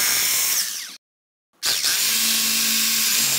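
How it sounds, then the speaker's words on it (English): Hammer drill fitted with a 3/16 inch bit bores into cement, whining loudly and steadily, cutting out for about half a second, then starting again. "we're going to take our hammer drill. It's already got a 3/16 inch bit in it."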